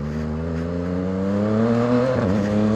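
A Yamaha XSR900 engine while riding, a smooth steady whirring drone with layered tones that rise slightly, then dip briefly as the throttle changes near the end.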